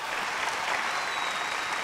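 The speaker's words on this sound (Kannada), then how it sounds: "ಹೊಡಿರಿ ಚಪ್ಪಾಳೆ" An audience applauds at a televised comedy show, a dense, steady burst of many hands clapping together, loud and continuous with no voices over it.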